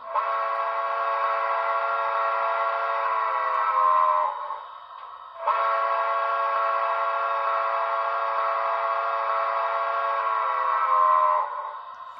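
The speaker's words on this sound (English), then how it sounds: "Here's the whistle." A Broadway Limited New Haven I-5 model steam locomotive with DCC sound blows its whistle: two long, steady, close blasts of the same chime, split by a brief pause.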